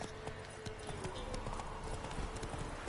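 Horse hooves in the video game The Witcher 3 clip-clop at a steady walking pace, close and fairly clear, over a low background hum and scattered faint rustles.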